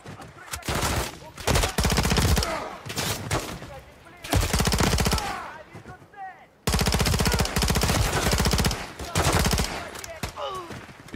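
Rapid automatic gunfire from a Call of Duty MW3 campaign mission in frozen tundra, loud bursts repeating in several long volleys with brief gaps between them.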